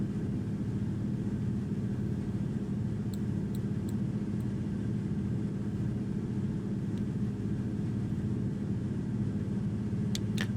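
A de Havilland Beaver floatplane's radial engine drones steadily in flight, a loud, constant low rumble heard from inside the cabin with no breaks.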